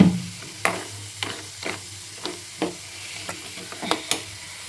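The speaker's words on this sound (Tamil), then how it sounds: "பரட்டி பரட்டி விடணும் அப்போ தான் நாலா பக்கமும் செவக்க வறுபடும்" Spices for homemade masala powder dry-roast in a pan, crackling softly while a spatula scrapes and stirs in irregular strokes about every half second.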